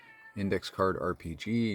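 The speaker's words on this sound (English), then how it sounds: "Yes, you can hear my cat in the background." A pet cat meows several times in the background, its cries tangled with and partly overlapping close speech from someone talking about tabletop role-playing games.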